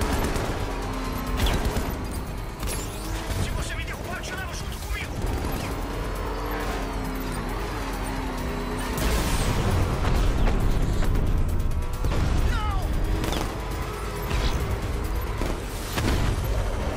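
Gunfire crackles through a Batman Arkham Knight car chase, with scattered sharp bursts cutting through a dense, steady din of engine roar and mechanical clatter.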